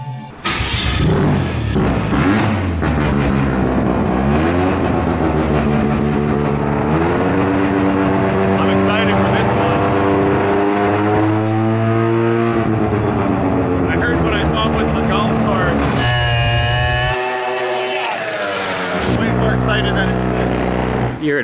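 A Mazda FD RX-7 rotary engine idles and revs loudly inside the car cabin, a deep throbbing rumble with rising and falling pitch, heavy and close throughout.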